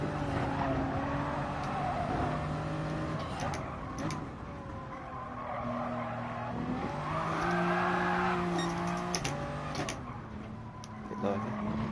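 A Toyota Supra race car in Gran Turismo Sport, its engine droning and rising through gear shifts while tires squeal through corners, loud and continuous with faint talk under it.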